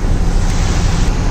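Sea waves wash onto a beach in a steady, loud roar of surf, with broad rushing water and wind noise filling the whole stretch, no voices present.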